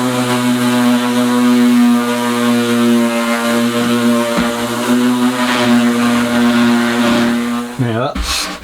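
Power sanding on an MDF box gives a steady, loud, close droning whine with a strong tonal hum that holds for about eight seconds, then cuts off abruptly as the sander winds down.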